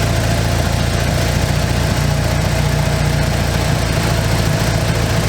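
Mitsubishi Eclipse GSX engine idling steadily on its own, a continuous, even low rumble with a constant hum and no voices, after work on the wheel hub bearings.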